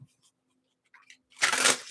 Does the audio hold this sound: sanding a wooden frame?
no